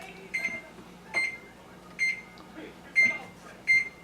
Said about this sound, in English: we use the timer on the microwave